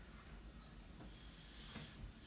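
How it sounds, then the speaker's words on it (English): A lamb kebab sizzles in a hot, dry pan with no oil, a continuous close hiss with slight swells as it is pressed down. "Little sizzle there."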